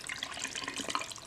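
Water splashes and gurgles as it is poured into a blender for tinga, a soft, brief, steady pour heard close up.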